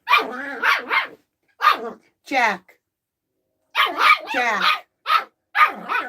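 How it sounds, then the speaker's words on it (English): A nearby dog barks in a series of loud, sharp barks with brief pauses between bursts, and a person briefly speaks. "Let me see who's doing the barking."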